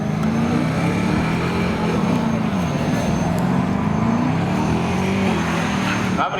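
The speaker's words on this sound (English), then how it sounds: "Jason Farias in the Colorado, going up against Brian Hartling in the Corvette." Drag race cars, a Chevrolet Colorado pickup and a Corvette, idle and rumble steadily at a speedway drag strip, a loud continuous low engine drone lasting throughout, with faint public-address talk underneath.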